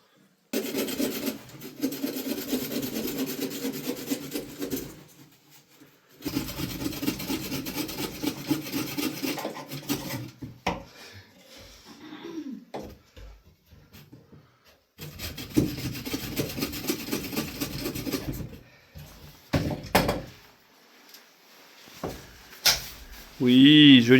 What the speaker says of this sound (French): on va couper du bois pour faire le feu pour manger. C'est un peu tendu, la scie est nulle.